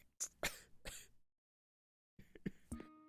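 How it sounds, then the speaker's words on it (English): Close throat clearing with rough coughing bursts, a few quick harsh rasps, then a pause and more throaty noises, with no speech. "Why are you coughing?"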